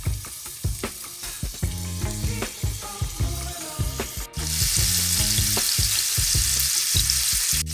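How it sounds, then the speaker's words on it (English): Meatballs frying in a little olive oil in a heated skillet, sizzling under repeated rhythmic low knocks and clatters of the pan, then the hiss turns louder and denser in the second half. "Now, to a heated skillet, you want to add about a half a teaspoon of olive oil, then begin to add your meatballs."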